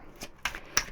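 Tarot cards being shuffled by hand in three quick, crisp riffling bursts, close and fairly quiet, with no talking.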